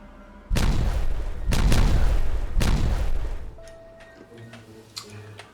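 A dynamite blast in the Timberborn video game on hard mode: three loud booming bursts in quick succession, each with a rumbling tail, then quieter scattered ticks and small clicks as the game settles.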